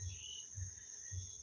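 Crickets chirp steadily outdoors in rural Portland, Jamaica, a constant high shimmer with soft low thumps pulsing about every half second beneath it.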